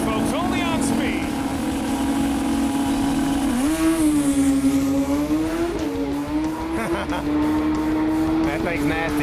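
A drag race machine on Pass Time makes a pass near a crowd, its engine holding a strong droning tone that rises and dips with gear changes, loud throughout, with an announcer talking over it.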